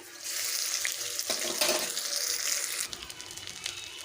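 Whole cinnamon, cardamom, cloves and slit green chillies hitting hot oil for a paneer moong dal, a loud hissing sizzle that swells then settles into a softer crackle, close up with no talking.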